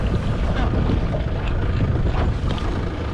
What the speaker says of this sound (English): You can go ahead and cut the engine.